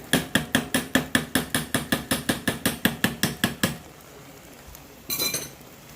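Spoon clinking rapidly against a pot while peanut butter is mixed into cassava leaf soup, about twenty sharp evenly spaced metallic taps, then a pause and a brief scrape.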